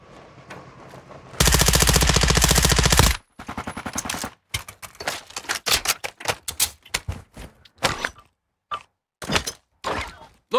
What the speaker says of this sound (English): Someone's shooting from the short side.